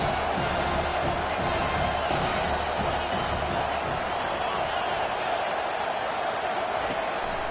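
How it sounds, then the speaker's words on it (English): A high school football crowd at an AGS vs Auburn game makes a constant roar of cheering and shouting, with indistinct voices mixed into the noise. "This crowd trying to make life miserable for this offense."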